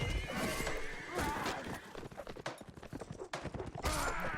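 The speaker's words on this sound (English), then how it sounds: "Nazgul takes out the horse there for Kwani Troll." A horse whinnies loudly amid a chaotic medieval battle in a video game, with dense clashing, crashing and clip-clopping hooves filling the scene throughout.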